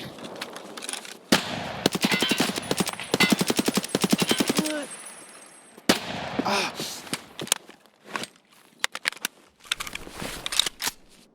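Automatic gunfire in Escape From Tarkov PvE mode, with loud rapid bursts that start and stop in a stuttering pattern, broken by short pauses and a few scattered single shots near the end.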